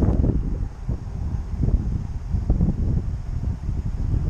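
Strong wind buffets the microphone outdoors, a continuous loud low rumble with gusty surges and no voices.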